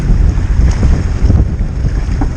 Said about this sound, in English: The wind's getting worse.